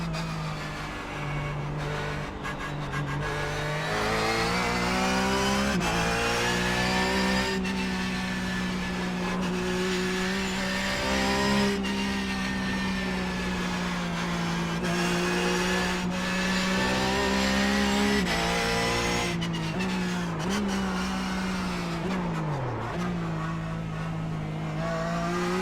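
A Porsche 911 GT3 Cup race car engine in the iRacing sim drones loudly and continuously, revs rising and dipping with gear changes and braking across the lap, with no talk over it.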